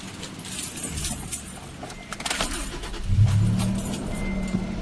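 A Toyota Tacoma pickup truck engine cranks and catches, then settles into a steady low rumble, with some light jangling near the start.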